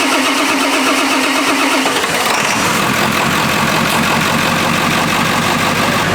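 A 1997 Ford F-250 pickup with a mechanical fuel system cranks briefly, then its diesel engine catches and settles into a loud, steady rumbling idle close by.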